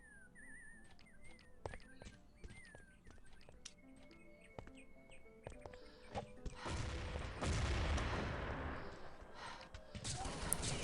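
Grenade blasts in a competitive online match, a burst of dense noisy explosions late on, loud and sustained, following a stretch of scattered clicks, chirps and sporadic shots.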